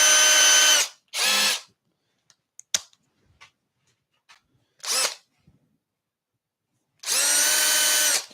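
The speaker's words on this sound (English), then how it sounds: "whilst I'm trying to drill" Several short bursts of a high-pitched power drill whirring, separated by quiet gaps with small clicks and taps, close by.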